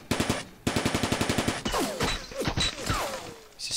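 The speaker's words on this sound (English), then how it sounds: "Fire some measly shots here" Gunfire in the Vietnam War strategy game Divided Ground: a short opening burst, then a rapid, evenly spaced string of about a dozen loud shots, followed by scattered sharper reports and whooshing effects.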